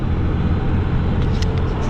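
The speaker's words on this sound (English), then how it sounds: "You guys see all that traffic over there?" Highway traffic on 81 North seen from a truck, a steady loud broadband roar of vehicles with no speech.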